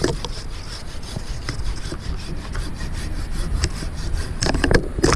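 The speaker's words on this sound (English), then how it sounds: "I can cut all this with my handsaw here." Handsaw cutting through a tree branch during tree surgery work, loud continuous rasping back-and-forth strokes close by with no talking.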